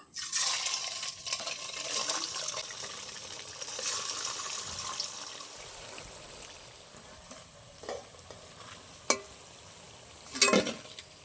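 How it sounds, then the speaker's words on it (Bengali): Crispy potato snacks frying in hot oil, a soft steady sizzle under occasional clinks and scrapes of a spatula, with a few sharper metallic taps near the end. "একই রকম ভাবে বাকিগুলো সব ভেজে নেব"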